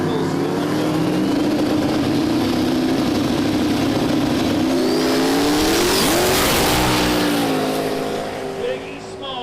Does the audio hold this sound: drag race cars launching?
yes